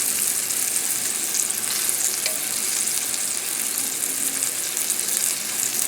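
Salmon sautés in a hot pan with a steady, close, even sizzle and crackle that holds throughout, with no talking.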